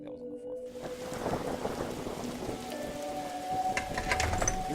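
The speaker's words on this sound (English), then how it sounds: "But it's raining outside." Steady rain patters on a surface in the Darkside Detective game, a continuous close wash of drops with a faint low hum underneath and one brief rumble, no talking.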